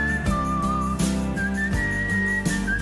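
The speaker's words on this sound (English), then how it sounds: "this is amazing whistling, by the way" A person whistles a sustained, steady melody with long held notes over a backing of rhythmic instrumental music, loud and close.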